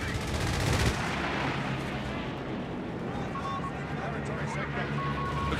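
Artillery barrages and gunfire from a Company of Heroes 3 match, a loud burst of rapid fire at the start giving way to a steady rumble of distant explosions beneath ongoing battle noise.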